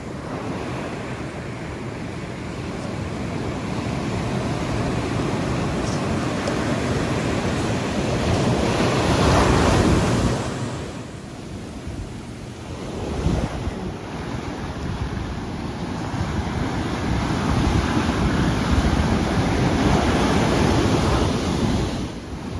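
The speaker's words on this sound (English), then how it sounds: "Here's some sounds of the beach." Ocean waves wash onto a beach in long swells, with wind buffeting the microphone; surges rise and fall over a steady roar, no voices.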